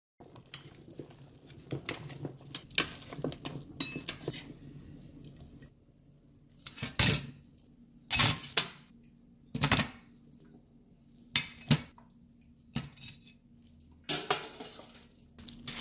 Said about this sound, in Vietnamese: Bây giờ tôi vớt xương bò ra các bạn.